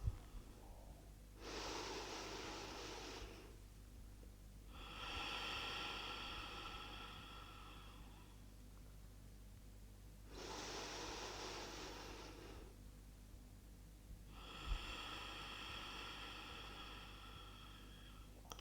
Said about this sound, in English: A few deep breaths in and out through the nose.